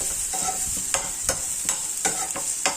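Food for a Karnataka-style field bean palya fries in a pan with a constant bright sizzle, punctuated by regular sharp scrapes and knocks of a spatula stirring every half second or so.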